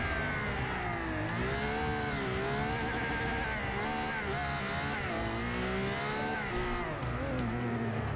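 Engine revving hard through gears in the racing game Forza 6, pitch sweeping up and down in repeated climbs with brief tire squeal, loud and continuous with no talk.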